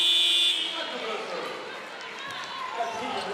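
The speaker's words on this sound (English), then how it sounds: "So just beat the buzzer, Catherine Riss." A short basketball shot clock buzzer sounds briefly at the start over busy arena noise at a women's EuroBasket game, Italy versus Spain, with a crowd and bouncing ball heard afterward.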